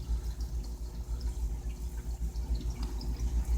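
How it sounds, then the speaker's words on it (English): Faint, gentle water dripping into a ceramic pot during anemone acclimation, a soft continuous trickle heard close and quiet over a low background hum. "it's dripping into the pot, and the pot is dispersing the acclimation"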